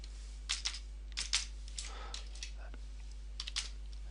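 Code being typed on a computer keyboard: sparse, close key clicks in short clusters with pauses between them, over a steady low hum in a quiet room.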